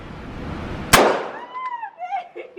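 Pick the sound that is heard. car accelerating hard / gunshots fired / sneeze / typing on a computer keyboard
gunshots fired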